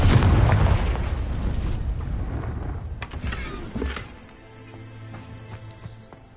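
Confringo blasting spell from Hogwarts Legacy, a loud explosive burst at the start that rumbles and fades, followed by a few sharper cracks and a low hum.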